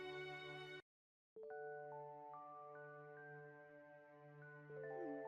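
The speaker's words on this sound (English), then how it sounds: "a text message notification illuminated my phone screen, a message from my now ex-husband" A phone chimes with a text message notification, a clear tone that breaks off briefly before a steady sustained electronic tone resumes, with no talking.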